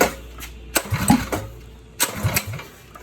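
A Honda H22 engine runs through its exhaust, firing in uneven bursts and blips, close and fairly loud, with brief quieter gaps between revs.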